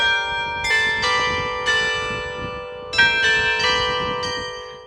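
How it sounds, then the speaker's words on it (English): Church bells in Saint-Emilion ring out loud and clear, several resonant strikes at irregular intervals with long sustained overlapping hum, alone without voices. "would hear the sound of bells ringing from 3 local churches"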